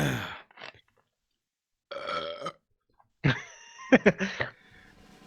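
A series of loud, close belches separated by silent gaps, the last one long and drawn out with a bubbly, pulsing rasp.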